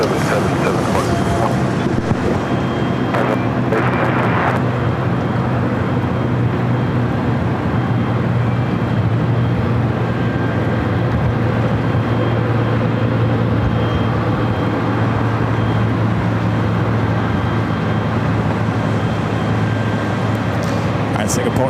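Boeing 777-300ER jet taking off from LAX runway 24 left, bound for Tokyo Narita: a steady, loud, broadband engine roar holds throughout, with wind buffeting the microphone and faint radio voices underneath.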